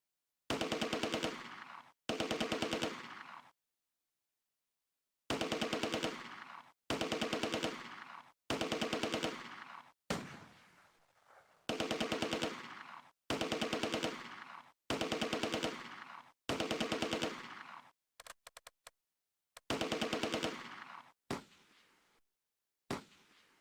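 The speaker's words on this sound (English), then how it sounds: "Desultory fire continues from the 2nd Schützen squad." Machine gun fire in the WWII strategy game Close Combat: A Bridge Too Far rattles in loud, repeated sustained bursts separated by short silences, with a few scattered shorter shots, and no voices.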